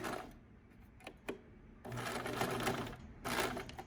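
A sewing machine runs in short bursts, adding a few stitches to a fabric face mask to hold a pipe cleaner in place. Rapid mechanical clatter, stop-start at first, then a steadier run and a final short burst, close and moderately loud.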